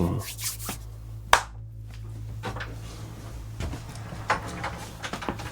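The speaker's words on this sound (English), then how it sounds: "Can you clap one more time?" A single sharp hand clap rings out in a quiet room of an old haunted farmhouse, followed by faint scattered knocks and creaks under a low steady hum.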